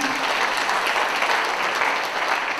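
A festival audience at a folk music contest claps steadily for a young performer, a dense, even round of applause with no talk over it.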